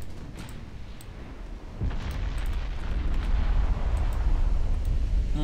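Naval shell impacts and heavy gunfire rumble from a battleship engagement in Ultimate Admiral Dreadnoughts, a steady booming roar that swells louder partway through and stays dense to the end.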